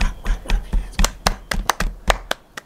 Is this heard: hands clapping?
yes